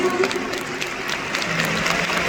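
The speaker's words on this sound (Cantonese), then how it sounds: "俾大家俾多啲掌聲" A concert crowd applauds a backing singer as the band members are introduced, producing dense, continuous clapping with light cheering that stays at a steady, fairly loud level.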